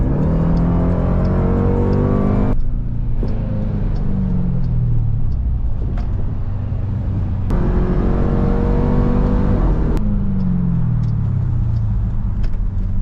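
A 2026 Dodge Durango Hellcat Jailbreak SUV roars loudly and continuously, its supercharged engine revving up through rising gear pulls with brief drops at each shift, heard up close from inside the cabin with no talking.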